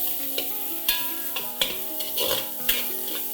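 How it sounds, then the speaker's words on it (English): Finely chopped onion sautés in about half a cup of hot oil for Indian mutton masala. It gives a steady sizzle with stirring scrapes and clinks, and music plays underneath. "Saute it for a minute."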